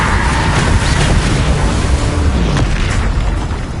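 A Bombarda spell explodes in Hogwarts Legacy, giving a loud, sustained booming blast with rumbling debris that fills the whole moment and fades slightly toward the end, with no voices.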